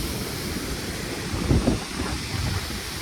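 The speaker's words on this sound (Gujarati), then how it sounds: "અહીંયા વરસાદનો જો ધોધ ચાલુ થઈ ગયો છે પાટણવાઈ ડુંગર ઉપર" A rain-fed waterfall on Patanvav hill roars as a steady broadband rush, mixed with wind buffeting the microphone, with a brief louder gust in the middle.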